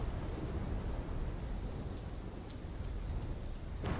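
Storm ambience in Call of Duty Black Ops 3: steady heavy rain with a low rolling rumble of thunder underneath, continuous and moderately loud, no voices.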